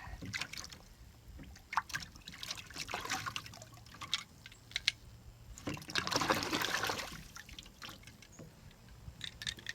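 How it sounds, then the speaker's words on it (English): Water rinsing grit out of a Glock pistol magazine, irregular splashing and trickling with a sharp knock or two and a louder gush in the middle, close and fairly quiet. "See if we can rinse it out a little bit more."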